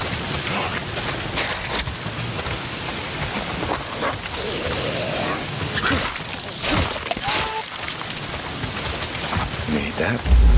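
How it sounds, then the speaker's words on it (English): Heavy rain pours steadily in the Days Gone video game, a dense, loud hiss of drops on surfaces throughout, with faint background sounds and what may be speech mixed beneath. "Why is it always raining?"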